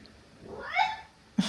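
A single cat's meow in a quiet home in the morning, one rising and falling call of moderate loudness, followed by a brief soft knock.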